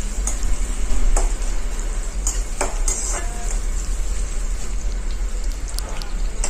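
Sliced onion and whole spices sautéing in hot oil in a pan, with a steady close sizzle and scattered clinks and scrapes of a stirring spoon throughout.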